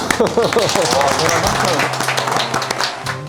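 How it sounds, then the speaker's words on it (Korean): Applause from a small group during a traditional liquor quiz at a brewery in Sosa-dong, Bucheon, breaking out right after a voice and filling the rest of the moment with dense clapping. "박수."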